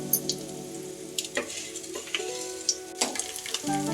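Chana dal and urad dal fry in hot oil for a radish-leaf palya, a constant close sizzle dotted with small pops and a few light utensil taps, and no speech.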